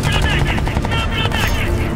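Rapid machine-gun bursts roar through a Crysis 3 firefight, loud, dense and continuous, with sharp repeated cracks layered over heavy low rumble and no voices.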